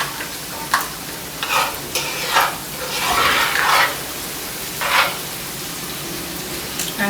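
Chopped garlic and ginger sizzle and crackle in a hot pan for Nigerian fried rice, with several louder bursts of frying as the pieces are stirred, close and clear with no talking.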